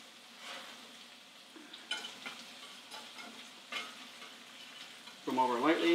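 Italian meatballs sizzle and fry in oil in a small pan, with soft stirring scrapes over steady crackling, close by, and a brief voice at the end.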